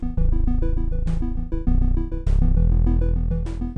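A Pico-8 chiptune instrument, looped and tuned very low at C0, plays a dense, buzzy, loud sequence of rapid stepped notes with a heavy low rumble and occasional bright bursts, continuous and alone.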